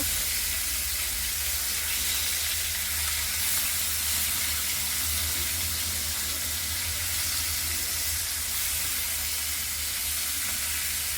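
Pieces of coral fish belly fry in a pan with a constant, hissing sizzle that stays even and close throughout, and no one speaks.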